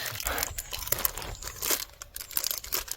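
Candy wrapper being torn and crinkled open, a dense run of crisp crackles and rustles close to the listener, irregular but continuous for a few seconds.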